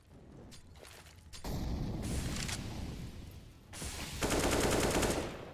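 Gunfire from Counter-Strike on the Vertigo map in a competitive esports match: bursts of rapid automatic shots and loud dense blasts come in two waves, fairly close, with no talk.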